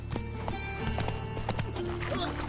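Hooves of Roach, a horse in The Witcher 3, clop at a steady trot through a busy game soundscape, with background music and voices mixed in.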